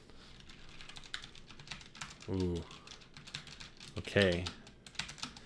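Keys clack on a Logitech G915 TKL keyboard with red linear switches, in quick irregular taps close up, with brief spoken words between bursts.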